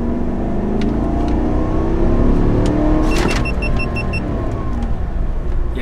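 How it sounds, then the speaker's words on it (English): A GMC Sierra 1500 Denali pickup with the 5.3L gas V8 pulls a trailer in a low-speed acceleration, its engine drone rising steadily and loud, with a brief electronic chime sounding partway through. "we're gonna do a low speed acceleration"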